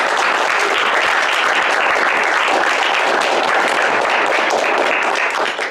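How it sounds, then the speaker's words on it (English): Loud, continuous applause from an audience at an academic talk thanking the speaker, a dense even wash of clapping lasting several seconds before easing off slightly at the end. "Let's give our speaker a round of applause."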